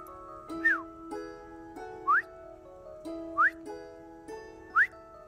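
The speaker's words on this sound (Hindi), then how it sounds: "आपकी सीटी नहीं, कुकर की।" A pressure cooker whistles four times, short rising shrill blasts spaced evenly about a second and a half apart over sustained tonal background music.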